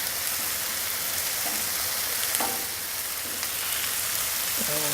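Asparagus sizzles on a hot CampChef FTG600 flat top grill, giving a steady, bright frying hiss with occasional small pops and no talking.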